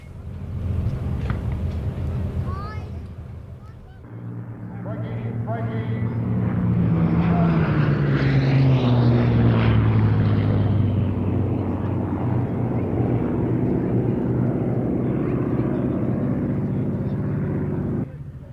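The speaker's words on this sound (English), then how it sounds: "Steve Nugent lands Susie, a P-51D owned by P.J. Morgan Aviation." A P-51D Mustang propeller fighter named Susie comes in to land at the Duxford airshow. Its engine drone swells from distant to loud and steady overhead, a sustained roar with a falling pitch sweep, while a commentator talks over it.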